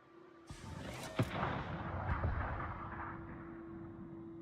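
Main battery guns of a Tier 6 battleship firing in World of Warships, a single heavy boom followed by a long rolling rumble and a lingering low hum from the game.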